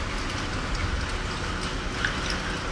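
Heavy rain falls steadily as a dense, even hiss with scattered drops, close and continuous and with no voices.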